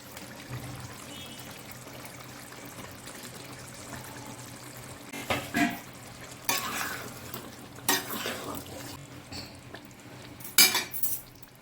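Potatoes tipped into hot oil and stirred for a chicken curry, with a steady low sizzle and several bursts of scraping and clattering against the pan.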